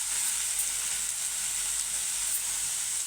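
Garlic, tamarind and ivy gourd sizzling steadily in a pan for a Telugu-style chutney, a continuous close hiss with faint stirring and no talk.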